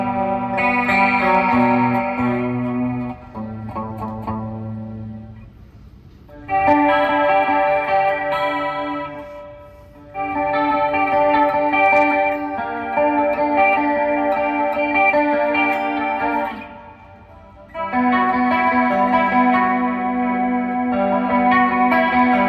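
An Aiersi PRS18 electric guitar played through its clean pickup with no distortion or overdrive, ringing out sustained chords in three long phrases separated by brief pauses, loud and full, with a slight shimmering effect on the tone.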